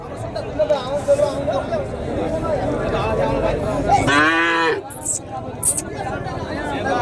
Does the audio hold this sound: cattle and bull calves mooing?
yes